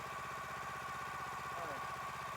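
A log splitter's small engine idles steadily with a low, even mechanical chug and hum, close and continuous for the whole stretch, with no talking over it.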